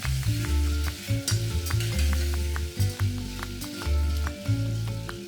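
Cubed potatoes fry in oil for pav bhaji, a close, loud sizzle with rhythmic spatula stirring and scraping against the pan throughout, no speech.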